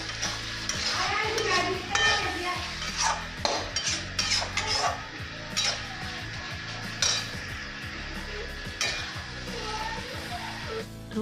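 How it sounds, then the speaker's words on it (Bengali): Spices fried and stirred in a pan for khichuri made with four kinds of dal: a utensil scrapes and clinks against the metal in irregular strokes over a steady sizzle, close by with no talking. "আর এখানে হচ্ছে মশলা কষানো হচ্ছে"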